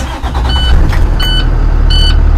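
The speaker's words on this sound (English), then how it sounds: "go ahead and proceed by starting the bus" A bus engine turns over and catches during a CDL pre-trip inspection, a loud low rumble filling the clip with short warning beeps chiming over it.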